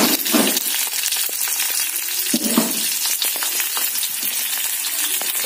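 Onion and chili frying in a pan, a continuous close sizzle with scattered crackles and faint stirring clinks, no talking.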